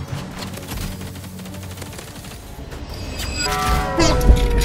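Rapid automatic gunfire from an Uzi in the Roblox game Rivals, loud bursts of rattling shots building toward the end amid other game effects.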